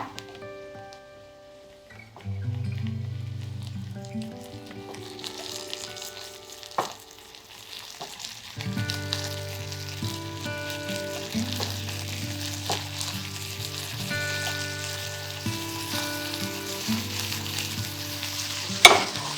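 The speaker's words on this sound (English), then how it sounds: "You don't need to fry them too much because they get burned very quickly. Just mix them with the fried onion like this." Barberries fry in a pan with fried onions as they are stirred, giving a close, bright sizzle with scraping and clinking stir sounds that grow busier partway through, under soft background music.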